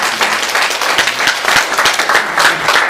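A church congregation at a Sunday service claps in lively, fairly close applause, with many hands patting in overlapping bursts for a few seconds.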